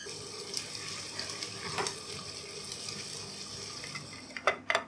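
A small brass part boils in a pot of water for a few minutes, giving a steady close bubbling and hissing simmer, with a couple of sharp clinks near the end.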